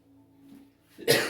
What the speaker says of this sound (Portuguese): Ah, vou espirrar.